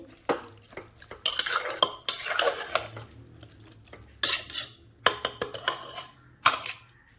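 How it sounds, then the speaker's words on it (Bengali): Steamed chicken being stirred and mixed in a metal pot in a village kitchen, with a spoon scraping and clinking against the pot in irregular bursts, close and fairly quiet, with a faint low hum underneath and no talking. "একটু ভালো করে নাড়াচাড়া করে মিশিয়ে দিচ্ছি।"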